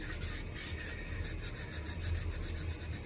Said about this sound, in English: I'll give it a little extra sanding.